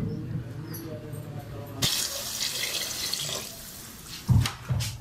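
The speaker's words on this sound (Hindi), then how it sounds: "जी हमने पानी इसमें ऐड कर दिया है" Water is poured into a pot of beef curry as it cooks, making a running, splashing pour. It starts abruptly partway through and ends with a couple of louder sloshes.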